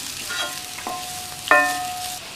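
Elephant foot yam stir-fry mixed in a pan with the stove off: a few scattered scrapes and metallic clinks of a spoon against the pan, with a sharper ringing clink near the end over a faint hiss.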